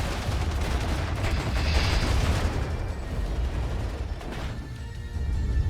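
Rockets striking a T-72 tank in the WARNO strategy game: loud, rumbling impacts and bursts blur into continuous battle noise, with a stronger blast near the middle and another toward the end.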